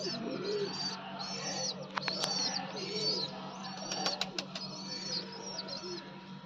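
Pigeons in a loft cooing softly at close range, with repeated low burbling calls, a few sharp chirps and clicks, and a steady low hum underneath.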